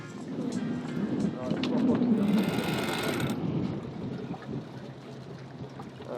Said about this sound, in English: the next step would be to hoist the sail up